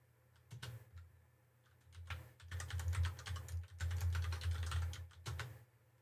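Linux commands typed on a computer keyboard in a homelab: clusters of close key clacks in uneven bursts with short gaps between, moderately loud over a quiet room, with no voices.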